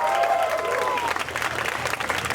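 Audience applause fills a cafe during an open mic night, a steady wash of clapping with some crowd noise mixed in.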